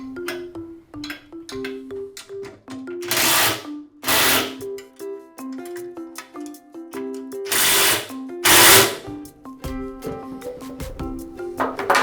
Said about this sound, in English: For this step, I'm going to go ahead and use an impact gun.